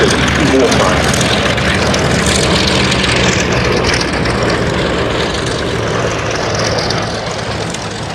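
A Westland Lysander's engine drones loud and steady at an airshow, a broad continuous roar that eases slightly toward the end, with no clear talk over it.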